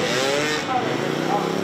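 A motorcycle in a gymkhana competition accelerates hard through a short straight section, a steady loud engine drone with a rising whine, heard under continuous commentary.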